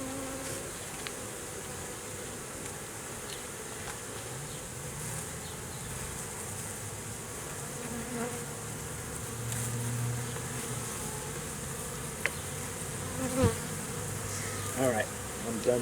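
Honeybees fly around a hive after a swarm introduction, a steady, continuous buzz of many wings hovering close by, with occasional louder passes near the end.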